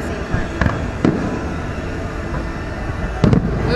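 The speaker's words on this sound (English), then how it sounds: "I love fireworks." A Fourth of July fireworks show in West Palm Beach booms from far off as a steady rumbling wash of distant bursts, with a few sharper cracks standing out, heard from a crowd some way from the launch site.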